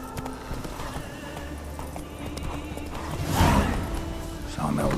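Horse hooves clop in rhythm in The Witcher 3 with a whinny partway through, set against the game's ambient background.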